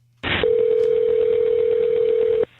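A steady electronic telephone tone holds for about two seconds after a short burst of noise, clear and alone, played from a recording of a 911 call.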